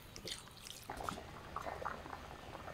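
A little more water splashes into simmering small-chicken curry, giving brief uneven pours and bubbling sizzles, quiet and close.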